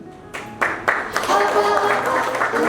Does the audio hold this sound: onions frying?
no